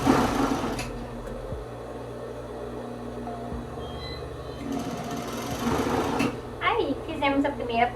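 A sewing machine stitching a cascade-collar blazer runs in a steady, close mechanical whir with a few brief stops, while someone talks over it near the end.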